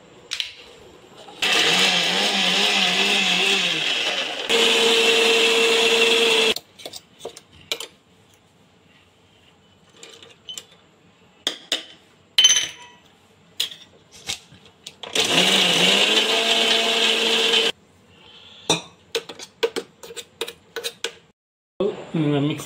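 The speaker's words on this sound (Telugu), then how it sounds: "తర్వాత దంచి పెట్టుకున్న కాజుని, బాదం పలుకుని కూడా చివరిలో వేసి మెత్తగా గ్రైండ్ చేసుకోవాలి కొత్తిమీరతో పాటు" A kitchen mixer grinder whirs loudly in two separate bursts while grinding green chillies, cashews, almonds and coriander. Quiet clinks and handling noises fill the gaps between runs, and a person talks.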